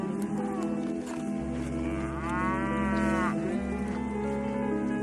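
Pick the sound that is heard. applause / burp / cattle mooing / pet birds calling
cattle mooing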